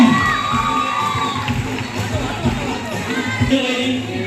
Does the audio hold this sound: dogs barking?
no